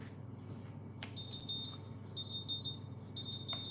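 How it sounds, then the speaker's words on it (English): Kitchen oven timer beeping when a tray bake is ready, a faint, high, thin electronic tone repeating in short groups of beeps over quiet room hum, with a couple of light clicks. "Timer."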